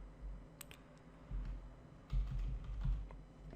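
Quick clattering keystrokes on a computer keyboard, close and steady, typed in bursts with short pauses and no talking.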